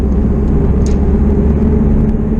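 Toyota SW20 MR2 taking a high-speed turn, heard as loud, steady low engine and road rumble with a constant drone and a brief higher squeak partway through.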